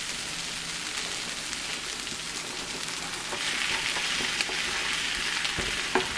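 Sliced zucchini for a spicy corn and jalapeno frittata sizzles steadily in a hot pan, a soft continuous crackle with occasional louder pops and stirring scrapes near the end.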